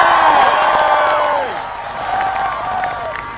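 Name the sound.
crowd cheering for the Matildas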